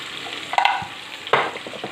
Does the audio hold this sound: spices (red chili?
yes